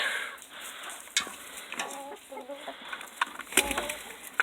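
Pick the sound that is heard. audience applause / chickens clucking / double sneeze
chickens clucking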